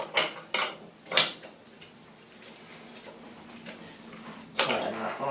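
Spanner working a crank removal tool on a bicycle crankset, giving a few sharp metallic clicks and ratcheting clanks spaced irregularly, close by, with quieter small knocks between them.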